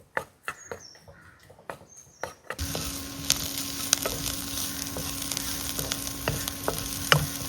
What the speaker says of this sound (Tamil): இந்த வெங்காயத்தை வதக்கி வச்சுக்கலாம் லாஸ்ட்டில் போடுறதுக்கு.